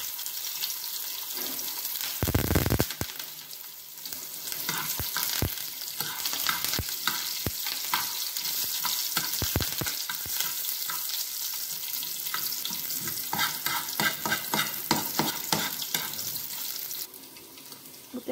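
Garlic and tomato frying for raw mango pickle, a steady close sizzle with frequent stirring scrapes and clicks of a spoon in the pan, and no one speaking.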